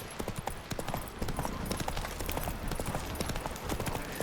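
Geralt's horse Roach trotting in The Witcher 3, hooves clip-clopping in a steady close rhythm over ambient game sound, with no voices.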